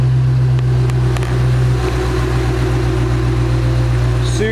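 A 2008 Ford Mustang Shelby GT500 Super Snake V8 idles close by with a deep, steady low rumble and a constant drone, and a brief rev near the end, with no voices over it.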